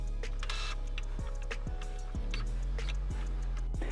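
An Epson Stylus DX4050 printer's ink cradle shuttles back and forth, giving a series of quiet mechanical ticks and short whirring slides at irregular intervals, close by with no talking.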